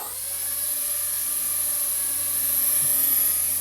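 A Loolinn X26 kid's drone lifts off and hovers indoors, its small propellers giving a steady, high-pitched whine with a constant buzzing hum underneath, sustained and fairly loud.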